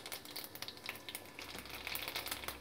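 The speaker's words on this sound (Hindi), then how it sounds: "ऑयल गरम हो गया है, मैं इसमें जीरा डालूंगी लगभग 2 छोटे चम्मच" About two teaspoons of cumin seeds crackling in hot oil in a pan, a dense burst of sharp pops and sizzle close up, with no talk.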